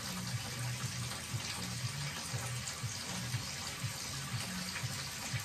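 A kitchen or bathroom tap runs water steadily and continuously at close range throughout, with no voices over it.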